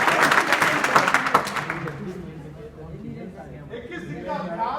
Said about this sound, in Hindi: नीरज यादव के लिए एक और जोरदार ताली बजाओ।